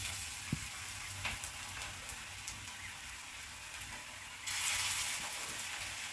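Onion fritters sizzle steadily in a small amount of mustard oil, a constant close hiss that grows louder and denser near the end as more batter goes in.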